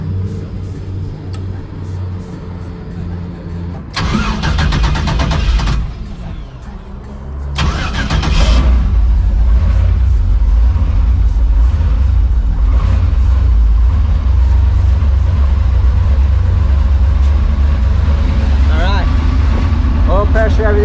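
A car with a freshly installed Ford 9 inch rear end gasket cranks briefly, catches and settles into a loud, steady idle, with someone talking over the rumble.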